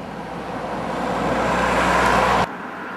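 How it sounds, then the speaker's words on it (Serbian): Road traffic on the route between Novi Beograd and Avala sweeps past nearby, swelling into a loud broadband rush before cutting off abruptly. "Ček da prođu kola."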